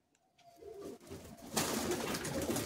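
Madrasi high flying pigeons cooing in a loft, soft low coos that swell into a dense, louder wash of birds and fluttering, with no talk.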